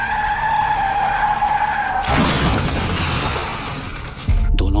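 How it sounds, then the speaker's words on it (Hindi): Two motorbikes collide head-on in a sound effect. A rising engine whine gives way to a loud, harsh skidding roar and grinding impact noise, then a final sharp crash burst, all loud and close with no voices. "दोनों बाइक्स की टक्कर बहुत जोर से हुई।"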